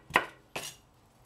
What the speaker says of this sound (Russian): Режем просто такими рандомальными кусочками